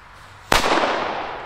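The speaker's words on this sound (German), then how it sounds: "alle D-Böller haben die jetzt weggeballert" A Chinese D-Böller firecracker detonates in one sharp, loud bang after a quiet moment, followed by a lingering crackling, rumbling decay.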